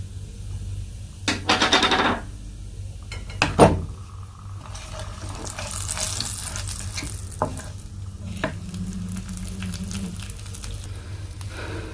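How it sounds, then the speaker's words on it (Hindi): Cumin and turmeric fry in a hot pan, giving a continuous soft sizzle broken by several sharp spoon scrapes and clatters as the spices are stirred, with no talking. "ज़ीरा थोड़ा पक जाए तो इसके अंदर आप थोड़ी हल्दी डालें।"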